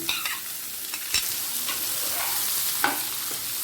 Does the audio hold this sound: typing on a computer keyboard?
no